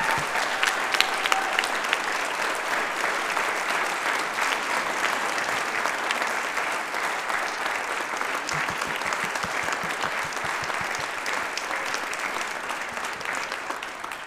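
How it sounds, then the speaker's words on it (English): A large audience at a university spring concert claps steadily for about fourteen seconds, dense continuous applause filling a hall with no voices on top. "Would you give her one more round of applause, Dr. Bethany Ammons?"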